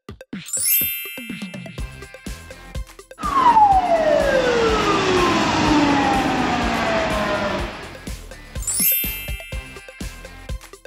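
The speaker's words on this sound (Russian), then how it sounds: "Это полицейский автомобиль." A toy-like cartoon police car siren wails with a sweeping, falling tone for several seconds, framed by bright chiming jingles before and after.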